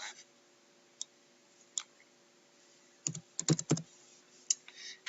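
Number entry on a computer keyboard: sparse single key clicks early, then a quick burst of several keystrokes around the middle and a few more near the end, close and fairly quiet over a steady electrical hum.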